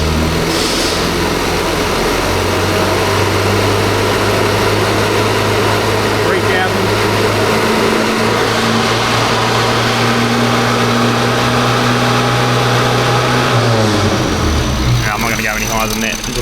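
A Mini's 998cc engine revs close and loud as a steady, sustained drone held at raised revs for most of the run, then drops away near the end.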